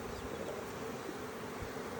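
Honey bees buzz densely inside a hive during a split, a steady, close, continuous hum with no voices.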